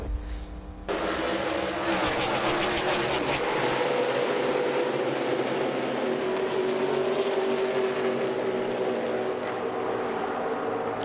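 NASCAR Cup Series stock cars racing at Pocono, a sustained loud engine roar of the pack with a droning pitch that rises slightly as the cars pass, continuous throughout with no talk.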